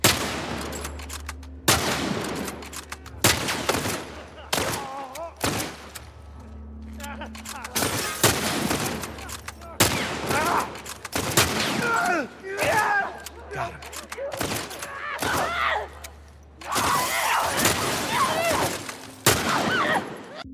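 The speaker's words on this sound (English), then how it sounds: "you have to do the little bolt thing every single time you fire" Repeated bolt-action rifle shots in The Last of Us remake video game, loud sharp cracks spaced a few seconds apart, each followed by bolt cycling and in-game sounds, over a low background drone.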